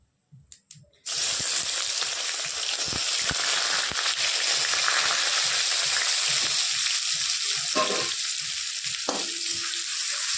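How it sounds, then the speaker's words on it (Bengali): Chopped onion sizzles steadily in a hot pan after cumin seeds, a loud continuous frying hiss with soft stirring scrapes and a couple of brief clinks near the end. "পেঁয়াজটাকে ভালো করে ভেজে নেবে।"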